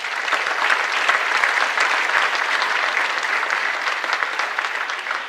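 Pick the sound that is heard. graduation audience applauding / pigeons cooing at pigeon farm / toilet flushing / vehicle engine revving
graduation audience applauding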